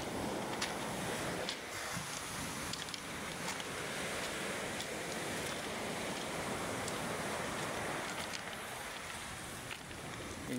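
Steady roar of large ocean surf and wind washing over the microphone, continuous and loud, with no clear breaks between waves.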